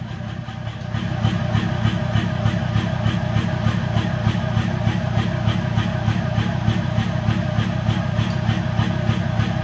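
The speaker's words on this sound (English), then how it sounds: "Give it another rev." A TDI diesel engine with an unusual exhaust setup runs steadily and up close, its low rumble pulsing in a fast regular rhythm after a brief quieter start, with occasional voices underneath.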